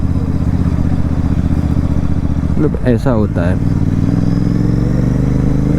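A Royal Enfield GT 650 motorcycle engine idles close and loud with a deep, steady thrum, while someone speaks briefly over it partway through.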